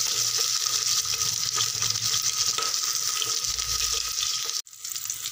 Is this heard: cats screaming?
no